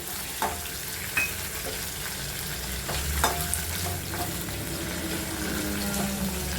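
Green chillies fry in a pan, a steady broadband sizzle with scattered spatula scrapes and clicks, close and moderately loud, no voices.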